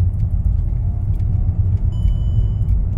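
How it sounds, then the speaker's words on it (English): A Mercedes C300 W204 engine hums steadily and close after a manual gear shift, with a deep, continuous low rumble from the car and no talking. "Then you can hear how the car drives."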